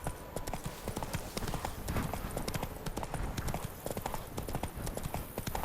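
Horse hooves clip-clop in a steady rapid rhythm, close and clear, from the video game The Witcher 3: Wild Hunt, with no voices over them.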